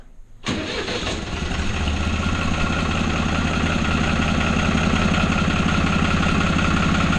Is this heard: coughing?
no